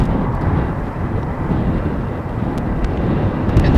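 A heavy airliner at Amsterdam Schiphol Airport gives a deep, loud, rumbling jet roar that holds steady throughout, with some wind buffeting on the microphone.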